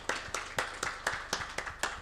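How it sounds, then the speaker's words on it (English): A small audience at a U.S.–Tanzania partnership event claps for a panel, heard as about eight distinct, evenly spaced hand claps at moderate volume in a quiet room. "another round of applause for the panel, please."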